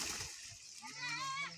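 Water is poured out and splashes in a brief, close burst while a voice talks over it.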